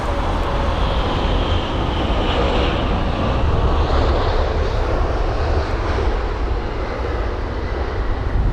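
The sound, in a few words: British Airways Boeing 787-10 Dreamliner arriving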